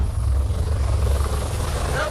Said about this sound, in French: L'hélico revient.